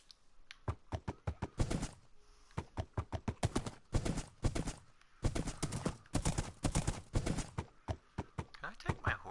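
A horse walks in Minecraft on PS4, its hooves giving crisp, rapid clip-clop taps in quick bursts separated by brief pauses, loud and close with no talk over them.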